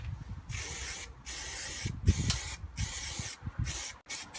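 Aerosol etch primer hisses from a spray can in several short bursts onto a welded steel panel during a 1964 Mk1 Mini restoration, close and steady with brief pauses between sprays.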